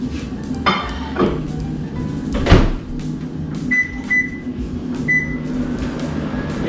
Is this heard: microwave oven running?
yes